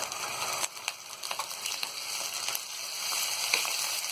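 About 200 grams of minced keema frying in oil with golden-brown onions in a pan, giving a continuous crackling sizzle with scattered pops and spoon clinks, no talking.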